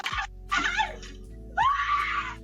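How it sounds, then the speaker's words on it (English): Woman screaming in terror outside an apartment in the early morning, three loud, piercing cries with short gaps between them, harsh and distorted as if caught on a distant security camera. "The screams of terror from a woman leaving her apartment"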